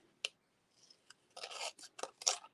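Scissors snip through paper while making a card, a sharp isolated cut followed by a run of rapid rasping cuts and a few final snips, close and clear with no talking.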